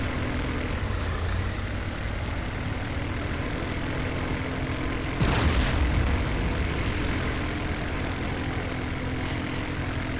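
Airplane engines in a combat flight game drone steadily and loudly throughout, with one plane briefly roaring past more closely midway, and no talk over it.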